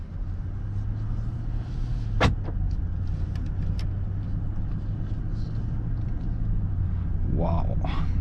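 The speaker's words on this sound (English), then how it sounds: "car put into drive." Inside a Mercedes-Maybach SUV as it pulls away, a low steady cabin rumble and road hum fill the space, with a brief sharp click and a short soft voice near the end.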